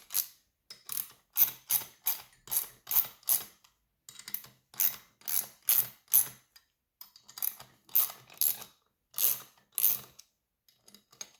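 A ratchet clicks in repeated short bursts while unbolting a valve spring compressor tool on a Honda B18 engine, giving a steady, close series of evenly spaced ratcheting strokes with brief gaps and no talking.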